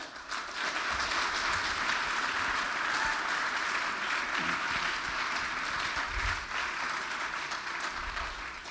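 An audience at an evening lecture breaks into sustained applause, a steady, fairly distant roar of many hands clapping that holds evenly without voices over it.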